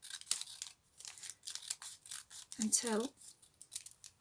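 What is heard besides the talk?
cutting off excess along an edge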